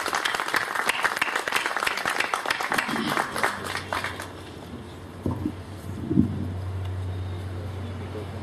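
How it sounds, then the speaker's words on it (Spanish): A forum audience applauds a doctor arriving at a panel table, dense clapping for about four seconds that fades out, followed by quiet room noise, a low hum and a few faint knocks. "recibamos por favor con un fuerte aplauso al doctor Raúl Lizárraga Bogue"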